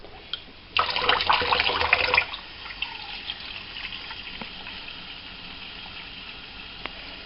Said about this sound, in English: I don't want you guys just to watch me fill up a coffee machine